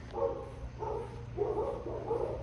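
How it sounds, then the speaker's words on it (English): A dog barks in a repeating series of four muffled woofs, somewhat distant, over a low background hum. "The dog's barking."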